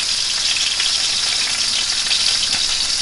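Steady, bright sizzling of a burger frying in a pan, with an even crackle that holds without pause.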